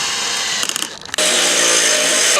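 A power drill boring holes for spotlights in a wooden terrace deck, a steady close whine that stutters briefly before resuming at full speed, alone without talk.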